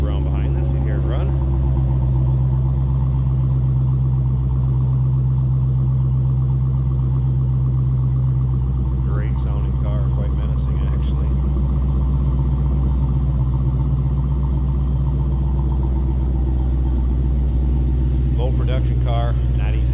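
A 2018 Dodge Challenger SRT Demon's engine runs at a steady, loud idle with a deep, constant rumble, and a few brief revs or clicks rise above it partway through.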